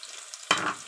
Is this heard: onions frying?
yes